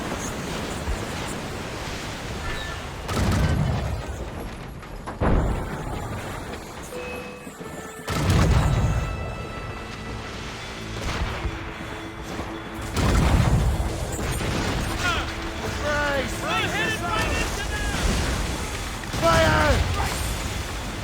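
Naval cannon fire and explosions in the Assassin's Creed Rogue video game, with loud booming blasts repeating through the clip over a constant roar of sea and wind, and shouted voices between the bursts.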